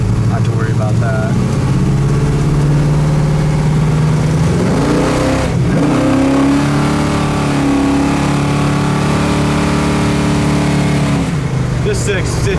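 A 500hp 1970 Chevelle SS with headers and new dual exhaust rumbles loudly while cruising around 60 mph, its engine note rising and settling with throttle, steady and close, with someone talking over it.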